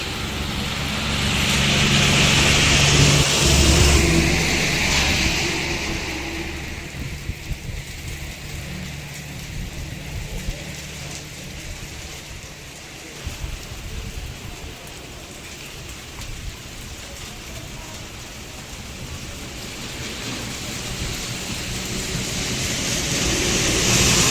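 A sudden rainstorm in Ardhapur town with strong wind and thunder: a steady, dense wash of rain on surfaces throughout, with a gusty roar early on and no clear thunderclap.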